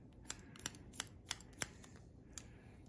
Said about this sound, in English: you only cut with the front part of the scissors